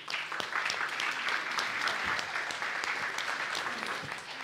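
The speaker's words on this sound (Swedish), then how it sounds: "En applåd." Audience applause welcoming a guest on stage at a Swedish web conference in Malmö, a steady dense wash of many hands clapping at moderate distance, sustained evenly throughout with little else over it.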